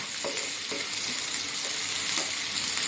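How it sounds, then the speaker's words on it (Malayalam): Chopped medium onions sauté in hot oil for a tomato chutney, a steady close sizzle and crackle throughout with a few faint utensil taps, no voices. "അതിലേക്ക് നമുക്ക് അരിഞ്ഞ് വെച്ച ഒരിടത്തരം സവാള, വലിയ ഉള്ളി വാട്ടിക്കൊടുക്കാം"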